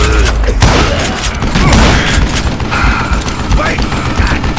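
Gunfire in the Call of Juarez Gunslinger Western video game: loud, busy shots and booming impacts fill the whole stretch with a crowded, continuous texture, and a voice can be heard amid it.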